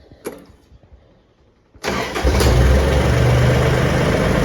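An Iseki TA 235 Japanese mini tractor engine is cranked after an oil change, a few faint clicks followed by a sudden catch into a loud, steady diesel-like idle that runs close by to the end, with no talking.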